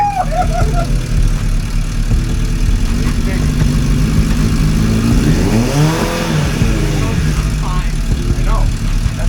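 A Suzuki Bandit 600 motorcycle engine idles steadily at close range with a continuous low rumble, as people talk over it.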